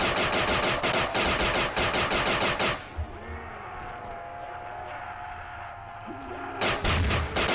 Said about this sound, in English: I don't think those explosions actually affect other zombies